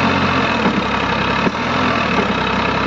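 A Farmtrac 60 tractor engine labours under load while pulling a 6 ft rotavator in a farm field, giving a loud, steady, rough drone with a brief knock partway through.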